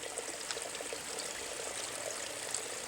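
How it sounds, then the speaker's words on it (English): Small feeder creek flowing through wooded property on a spring day, a soft, steady trickle and babble of water, faint and continuous, with no talk. "we're out here filming by one of the little feeder creeks that runs through our property"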